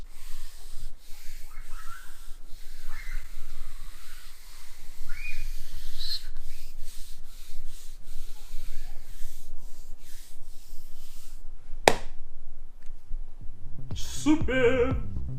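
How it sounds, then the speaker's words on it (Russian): A hand sweeping over oil-soaked wood veneer glued to a wall, a soft continuous rubbing hiss in long strokes, close, with a sharp click near the end. "Вот специально сейчас повожу рукой и послушайте"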